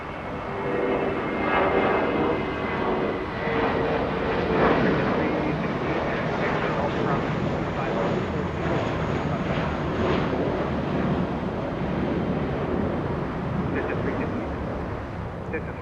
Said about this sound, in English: JetBlue 132 heading to Orlando, Florida. That's an A320.